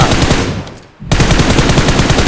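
Rapid automatic gunfire from the mobile battle-royale game PUBG Mobile, loud and dense bursts that briefly drop away near the middle before resuming strongly, with no talk over it.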